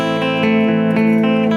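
Electric guitar on its middle pickup position gives a crisper tone, with steady rhythmic strums repeating every fraction of a second over a loud sustained chord, played alone.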